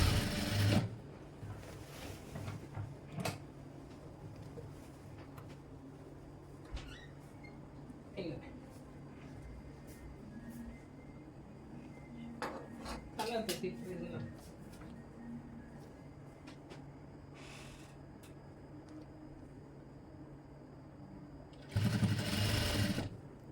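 Sewing machine stitching a long frock, a steady mechanical hum with faint clicks running under a voice, with louder bursts of machine noise at the start and end.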